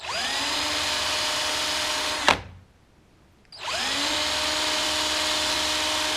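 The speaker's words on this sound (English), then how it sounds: "Not applying a whole lot of pressure to it. I'm letting the sandpaper do the work." A motorcycle carburetor part for a KLR650 being rolled against sandpaper, producing a steady whirring rasp that cuts out briefly near the middle and then resumes at the same level.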